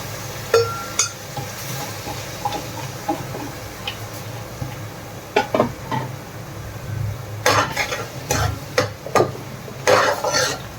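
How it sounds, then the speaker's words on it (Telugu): Onions fry in a pan of oil for chicken curry, with a low sizzle under repeated clinks and scraping stirs of a spoon against the pan, in irregular bursts. "ఇది మొత్తం పచ్చివాసన పోయేదాకా వేయించేసుకోవాలి."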